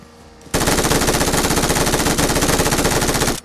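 Sustained rapid automatic gunfire from PUBG Mobile, loud and close, rattles on continuously for about three seconds after a short quiet start.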